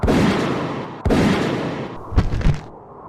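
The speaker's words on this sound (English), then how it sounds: "I made one final request for him to drop his weapon, before firing 2 rounds into his center mass." Two loud gunshots ring out back to back as a sound effect in a horror story, each a sharp blast with a rumbling tail, followed by fainter thuds and rustles.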